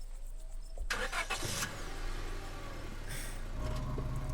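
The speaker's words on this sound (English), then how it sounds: "Tabitha doesn't say a word as the car cuts along the darkened road." In a video game, a car engine turns over and settles into a steady hum as the car drives along a dark road, with a brief burst of starter noise and a low continuous drone.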